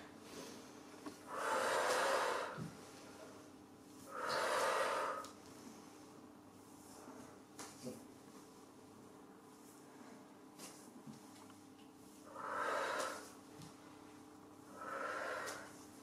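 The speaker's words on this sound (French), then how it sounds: "On inspire avec le nez et on expire avec la bouche." Slow, calm breaths drawn in through the nose and blown out through the mouth during an exercise session, four soft airy exhalations spaced a few seconds apart, close and quiet with no talk.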